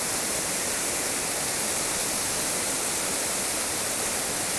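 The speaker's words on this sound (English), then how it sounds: "there's a lot of wind coming off the waterfall" A waterfall in California's High Sierra roars as a steady, dense broadband rush, with gusting wind coming off the falling water, continuous and close with no voices.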